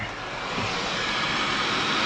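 A steady, broadband whirring drone of a Roomba robot vacuum running nearby inside a Hunter 376 sailboat holds at an even level throughout with no voices.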